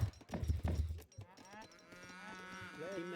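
Cows mooing in the strategy game Age of Empires III: after a few low thumps, one drawn-out bovine moo rises and bends in pitch, clear and fairly close over quiet background sound.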